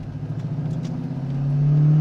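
A deep, steady C5 Corvette custom exhaust drone with valves closed idles low and fairly quiet, swelling slightly louder toward the end, with no talking.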